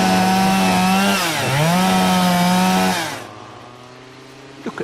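A chainsaw runs loud and close with a strong buzzing whine, dipping in pitch for a moment before recovering, then cuts off abruptly after about three seconds, leaving quiet background and a couple of faint knocks.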